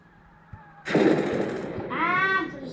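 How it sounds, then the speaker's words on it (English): An explosion outside in the 1930s downtown Mafia video game hits suddenly as a loud, sustained roaring burst, with a rising whine near the end. "There's an explosion outside."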